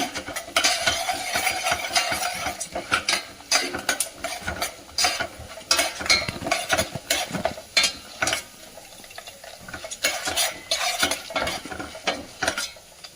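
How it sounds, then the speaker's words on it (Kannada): Peanuts and chana dal fry in hot oil, with a spoon scraping and clinking against the pan in a busy, uneven rhythm over a constant light sizzle, close up and fairly loud. "ಸ್ವಲ್ಪ ಶೇಂಗಾ ಬೀಜ, ಸ್ವಲ್ಪ ಕಡಲೆಬೇಳೆ ಇವನ್ನೂ ಸ್ವಲ್ಪ ಬ್ರೌನ್ ಕಲರ್ ಬರೋವರೆಗೆ ನಾವು ಫ್ರೈ ಮಾಡ್ಕೊಳ್ಳೋಣ"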